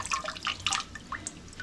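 Water drips and splashes from a salad spinner as it is lifted and emptied, a sequence of faint, scattered patters and trickles with no voices.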